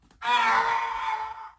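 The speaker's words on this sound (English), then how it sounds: "Let's import the Yoda death sound." A single drawn-out, moaning cry, Yoda's death sound, like a dying groan, rising sharply and then tapering off over about a second and a half.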